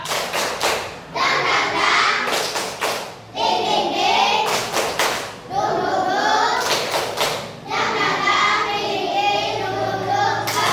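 Children in a third-grade classroom clap the tepuk semangat rhythm, with loud, close bursts of quick claps falling in regular groups while young voices chant along between and over the clapping.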